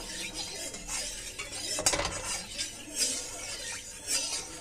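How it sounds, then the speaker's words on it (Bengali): Ghee being stirred into carrot halwa in a kadai, giving soft scraping and light metallic clinks of a spoon against the pan with a faint sizzle, steady and close throughout. "গাওয়া ঘিটা দিয়ে ভালো করে কড়াই মিশিয়ে নেব"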